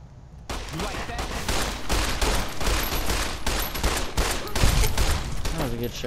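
Rapid bursts of gunfire in Fallout New Vegas, a dense fusillade of repeated shots filling the whole stretch at close, loud range with faint game sounds underneath.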